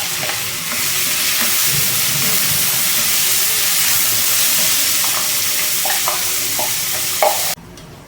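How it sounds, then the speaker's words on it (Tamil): Onions sautéing in a hot pan with dried chillies for a chicken gravy, giving a loud, continuous sizzle close by, broken by intermittent stirring clicks and scrapes toward the end. "நல்லா வதக்கிக்கோங்க"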